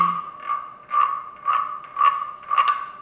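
An instrument produces a steady series of croaking pulses, about two per second, loud and close, imitating a frog.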